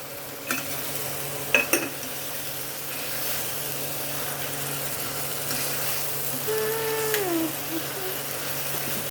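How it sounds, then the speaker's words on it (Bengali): Spice paste frying in oil for butter chicken, a steady sizzle and spatter with a couple of metal utensil clinks against the pot and brief stirring scrapes, no talk. "এটা একটুখানি ছিটকাচ্ছে বলে আমরা সামান্য একটু নুন দিয়ে দেবো।"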